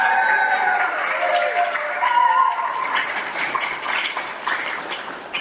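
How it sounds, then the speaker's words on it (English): A live podcast audience applauds, a moderate spread of clapping from a small crowd that thins out over a few seconds, with some voices mixed in. "I like the fact that we have to tell them to applaud"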